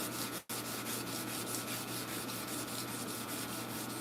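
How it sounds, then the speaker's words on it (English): A 28-inch single-handed sword blade is hand sanded and polished, producing a close, continuous rubbing rasp that repeats in an even back-and-forth rhythm after a brief pause near the start. "now I'm just polishing it from the grinder"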